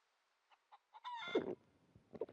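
A chicken in the survival video game Scum gives a short, fairly faint burst of clucking, preceded by a few soft separate clucks and followed by a couple more, with no talking.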